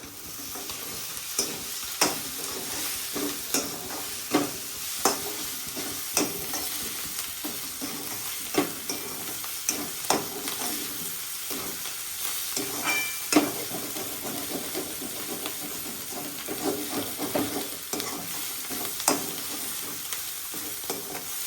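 Onions fry in a pan for palak paneer, giving a continuous close sizzle and hiss with regular scraping stirs of a spoon that recur every second or so.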